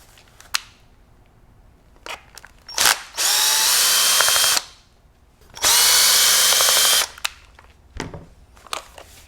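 Power screwdriver backing two Phillips screws out of the rubber recoil pad on a Benelli Ethos semi-auto shotgun, two loud sustained whirring bursts of about two seconds each, separated by a pause and surrounded by small clicks and handling noises.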